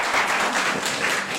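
Brief burst of audience applause at a West Covina special city council meeting, a short steady patter of many hands clapping with no voices.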